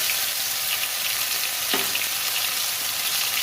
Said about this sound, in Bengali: সর্ষের তেল দেব আদা জিরে বাটা এক চামচ মতো দিলাম